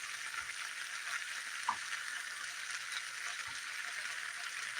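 Sliced potatoes, onions and kielbasa fry in a pan with a soft, steady sizzle and crackle. A few faint clicks and stirring sounds come through, all fairly quiet and with no talking.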